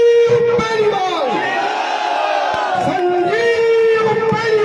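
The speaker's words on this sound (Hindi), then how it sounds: "आइए गगन भेदी नारे के साथ हमारे प्रिय नेता को आमंत्रित करते हैं।" Crowd at a political rally for Sanjeev Beniwal in Bhadra's Sanjay Chowk, loud and continuous, with a voice holding a long shouted note over massed voices that rise and fall together like a chant.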